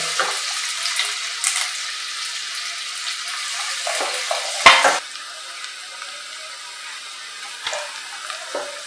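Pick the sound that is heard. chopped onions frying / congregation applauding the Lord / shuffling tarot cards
chopped onions frying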